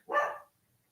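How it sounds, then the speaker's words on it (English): A single short, sharp bark from a dog indoors, barking at someone outside the window; one loud yelp-like burst, then quiet. "He's out there looking out the window. I guess he's barking at somebody."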